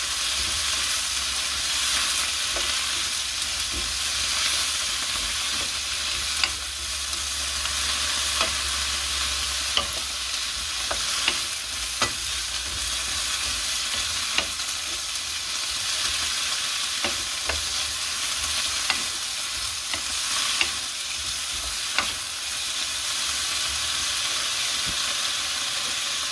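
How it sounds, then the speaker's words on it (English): Constant loud sizzling and hissing of choko, spinach and capsicum frying and steaming in added water in a hot pan, with occasional soft clinks and stirring. "those vegetables can steam in that water as that cooks off"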